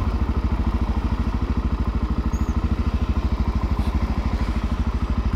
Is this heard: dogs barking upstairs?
no